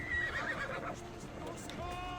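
A horse whinnies in Assassin's Creed Odyssey, a short neigh up close with game ambience and a voice talking over it.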